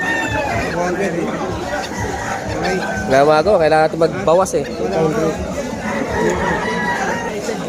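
Roosters crow and chickens cluck amid a bustling weekend pet market in Hulo, Malabon, with people talking loudly nearby throughout.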